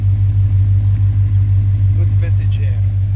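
A 1966 Pontiac GTO hardtop engine idles with a steady, deep, low rumble, close and even throughout, with no revving.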